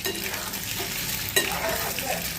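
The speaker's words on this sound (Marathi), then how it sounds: "अंडे मी तळायला ठेवले" Eggs frying in hot oil for egg biryani, a steady low sizzle and crackle running throughout with a single sharp clink of a utensil partway through.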